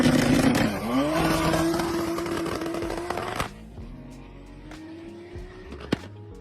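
A loud single-turbo BMW S54 engine revs hard and then cuts off with a sharp crack, followed by quieter idling and a few popping backfires.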